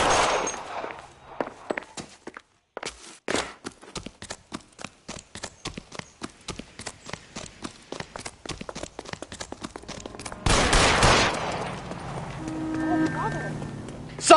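Rapid bursts of gunfire ring out in an L.A. Noire shootout, a long run of sharp, closely spaced shots, then a loud sustained blast near the end, with voices in the scene.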